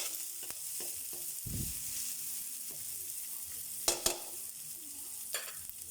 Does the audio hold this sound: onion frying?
yes